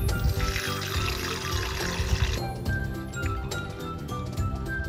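Rice being washed with water in the galley of a Toyota TownAce camper van, a steady close pouring and swishing with faint clinks of the container, the rushing easing off partway through.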